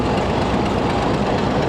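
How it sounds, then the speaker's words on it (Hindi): The Dera Ghazi Khan shuttle train 228DN pulls away, a dense, steady rumble of rolling stock that is loud and close and carries on without a break. "तो ये है जनाब डेरा गाजी ख़ान शटल ट्रेन 227 अप और 228 डाउन।"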